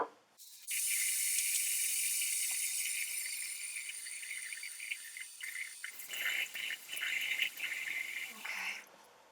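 Water running and splashing at a bathroom sink while a face is washed, a steady close hiss of flow that breaks into uneven splashes toward the end, without talking.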